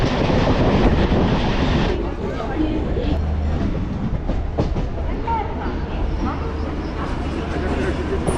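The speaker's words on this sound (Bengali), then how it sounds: "8 নম্বর প্ল্যাটফর্মে ট্রেন এসে দাঁড়িয়েছে।" The Uttarbanga Express stands at platform 8 of Sealdah station, its engine and carriages giving a loud, continuous rumble with a steady low drone, mixed with busy platform crowd noise and voices throughout.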